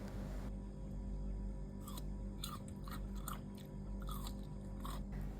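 Crunchy three-flavour pickled mango being bitten and chewed close up: a run of sharp, crisp crunches in an irregular rhythm over a quiet background hum, with no talk.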